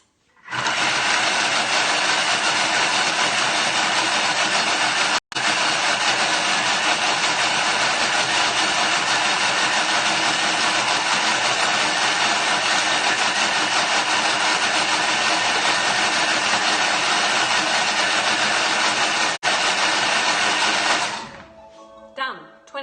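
Kitchen food processor running at speed 9 to blend tandoori paste ingredients, a loud, steady, continuous whir lasting about twenty seconds with two brief dropouts before it stops.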